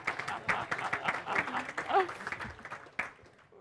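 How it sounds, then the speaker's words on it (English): An audience applauds at a food bank presentation, a burst of clapping from many hands with a speaker's voice mixed in over it. "Give them a nice round of applause, please."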